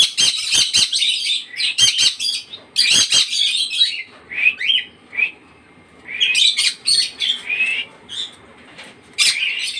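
Birds call noisily while waiting to be fed, with clusters of sharp chirps and squawks arriving in bursts separated by short pauses, loud and close.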